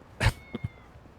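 A cat in the video game Yakuza: Like a Dragon gives a short, bright meow followed by two small, faint chirping mews, fairly close, against a quiet background with no talking.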